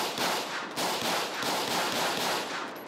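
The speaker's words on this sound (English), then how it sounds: "Shots fired." Rapid, continuous gunfire from the video game GTA 5 during a military patrol in a zombie outbreak, loud and dense bursts of automatic shots rattling almost without pause.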